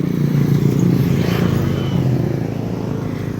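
Motorcycle engine running steadily close by, a continuous loud rumbling drone with slight clatter, no talking over it.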